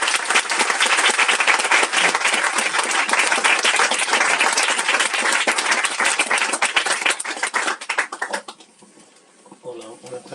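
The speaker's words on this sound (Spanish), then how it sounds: "un gran aplauso para los dos" Sustained audience applause at a book presentation for a novel, a dense, loud wash of many hands clapping for about eight seconds before thinning out and fading into quiet room noise.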